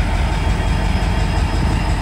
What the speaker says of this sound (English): Here, revving up that engine a little bit.